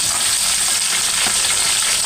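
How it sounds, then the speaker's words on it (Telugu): Tomato frying in oil with whole biryani spices such as cinnamon, cloves, cardamom and star anise, a loud, even, close sizzle with a faint stir near the middle, no voices. "కొంచెం ఫ్రై అయ్యే వరకు ఫ్రై చేస్తాం."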